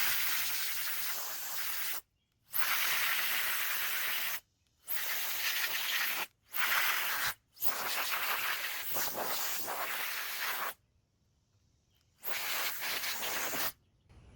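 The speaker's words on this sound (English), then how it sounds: "So let me blow this one out and we'll get an idea of how much cleaner it looks after that." Bursts of compressed air blowing dust out of a GPU's fans, loud hissing blasts of several seconds each, separated by short silent pauses, close up.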